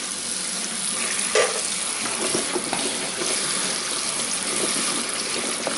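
Cold water streams from a kitchen tap over beans in a sink, a steady hissing splash running for the whole stretch, moderately loud and close, with no voices.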